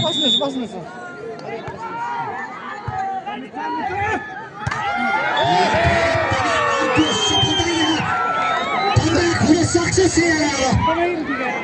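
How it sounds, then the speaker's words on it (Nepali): Loud, continuous crowd cheering and whooping from an audience at a dance competition show, rising and staying dense throughout, with shouts and babble but little distinct clapping. "सम्पूर्ण दर्शक बान्धवहरू आफ्नो लागि जोरदार तालीले सम्मान गर्नुहुन"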